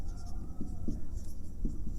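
Chalk or a marker scratches across a classroom board in short, rhythmic rubbing strokes, close and distinct, with no talking over it.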